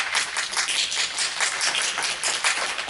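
An audience at a board of education meeting claps steadily for a few seconds, a dense, even patter of many hands with no voices over it.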